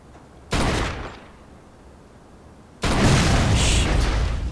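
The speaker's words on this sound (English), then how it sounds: "All right, that's enough shooting." Gunfire aimed at a car's tires and gas tank: two loud, close volleys of rapid shots, the first short and fading, the second a sustained burst lasting several seconds, with no talk over them.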